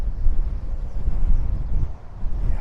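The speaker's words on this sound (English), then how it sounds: "Very windy up here." Strong wind buffeting the microphone on a coastal walk in Lanzarote, a continuous low roaring rumble that rises and dips in gusts, with no talking.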